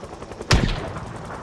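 A single close, sharp rifle gunshot in a video game, a .223 round fired through a scope, cracking loudly with a brief boomy tail over a low background hum.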